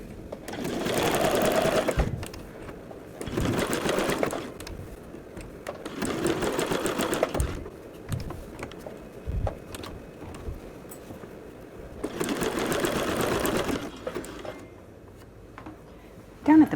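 A sewing machine stitches lace overlay around curved lingerie edges in several bursts of a few seconds each, separated by short pauses, with a person speaking quietly in between.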